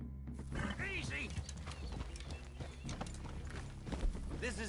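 Horses in a PS4 video game give off hoof clip-clop and a brief whinny, close and fairly loud, while voices talk over the scene.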